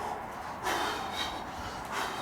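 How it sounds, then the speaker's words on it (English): Forceful exhales from a person throwing boxing punches during a full-body dumbbell workout, heard as breathy bursts at moderate level, one strong push near the middle and another toward the end. "If you guys could hear him doing a good exhale with every punch."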